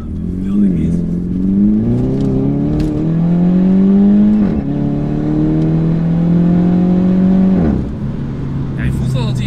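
A MINI Cooper S JCW tuned to Stage 2 accelerates hard through the gears, its engine note rising in pitch with each gear before dropping at the shifts. The car is heard from inside and is loud, with faint speech near the end.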